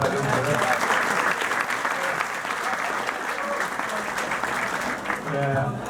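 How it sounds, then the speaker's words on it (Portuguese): Loud, continuous applause from an audience at a live music and talk event in Porto Alegre, a thick wash of clapping filling the whole stretch, with some voices faintly mixed in. "Agora uma salva de palmas ao segundo último cabeludo de Porto Alegre."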